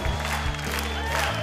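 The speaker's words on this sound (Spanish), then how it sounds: "Oiga, mire la ovación del público para Puma." A studio audience gives a sustained ovation of applause and cheering for the masked Puma performer on a televised singing competition, steady and full throughout, with sustained musical tones beneath.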